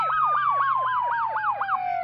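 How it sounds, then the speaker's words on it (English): A rapid yelping siren sweeps up and down about eight times in two seconds, loud and close, over a faint steady tone. "Sirens blared through the night sky."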